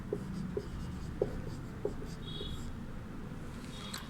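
A teacher writes an answer for a Class VI Hindi lesson, giving faint, scattered scratches and small taps of the writing tool spaced about half a second apart in a quiet room.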